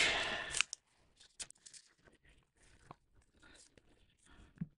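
Scissors snip near the start, a short burst of cutting followed by sparse clicks and handling noises, with a person talking quietly in between.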